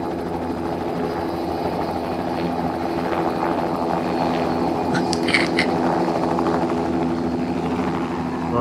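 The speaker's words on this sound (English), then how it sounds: "we got helicopter sounds or what?" A steady helicopter rotor drone chops continuously throughout, loud and close, with a brief higher whine rising briefly in the middle.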